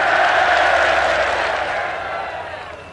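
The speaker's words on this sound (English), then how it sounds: "Can we have a round of applause for the rabble" A crowd claps and cheers loudly and steadily, the applause gradually tapering off toward the end.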